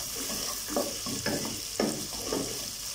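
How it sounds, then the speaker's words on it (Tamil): Onions, green chillies and spices sizzle in a pan for chicken mandi biryani, a soft continuous crackle broken by a few stirring scrapes, close and moderately loud. "ஸோ வெங்காயம் வந்து கொஞ்சம் லைட்டாக வதங்கட்டும்"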